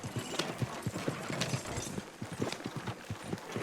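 Hooves of a horse pulling a fast carriage in a roleplay video game clip-clop steadily and quickly, with rattling wheel and tack noise, at a moderate level with no talk.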